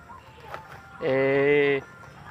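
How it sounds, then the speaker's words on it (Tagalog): Pet ducks waiting to be fed give one short, nasal, droning call close by, with quiet background noise around it. "yung ating mga alagang bibi"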